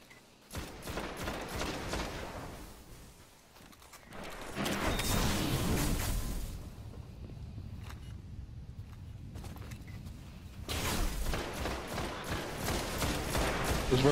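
Gunfire in a Destiny Trials match, bursts of rapid shooting that come and go with brief quieter gaps, close and fairly loud, alone without talk.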